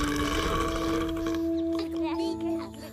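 A baby creature in the animated series Trolls de Troy lets out a low, drawn-out burp that rumbles under a bright, tonal cartoonish backdrop, with a voice faintly mixed in.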